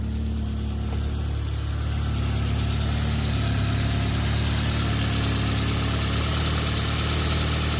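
An old Saab with a freshly restored turbo and a leak that leaves it smoking runs at a steady, loud idle close by, its low engine hum and faint knocking vibration going on without a break and with no talking.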